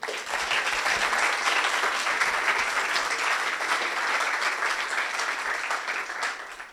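An audience at the Polycloud 2026 conference opening breaks into applause, a dense steady clapping from a sizeable crowd that swells quickly, holds, then tapers off toward the end.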